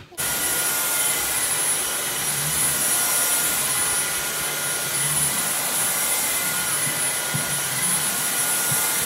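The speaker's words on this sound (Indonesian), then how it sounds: "tadi nyalain si vacuum cleaner ini nggak sampai 1 menit gitu ya" A Dyson V7 cordless vacuum cleaner runs steadily close by, its high whining motor roar starting abruptly and holding at a constant loud level throughout.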